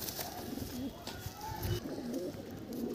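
Madras pigeons cooing in a loft, soft repeated throaty coos close by against a low background murmur.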